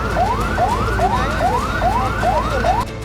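A fire brigade truck siren wails in a steady rising-and-falling cycle, about seven sweeps in three seconds, loud and continuous over low traffic rumble, ending abruptly near the close.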